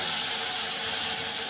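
Butter with vegetables cooking in a pan over low gas gives a steady, close hiss of sizzling that holds without a break throughout.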